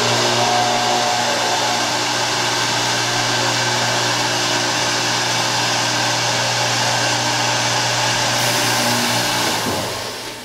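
An SCMI Technomax MB21 line boring machine actuates with a loud, steady motor drone and whir that holds for several seconds, then tapers off as it winds down near the end.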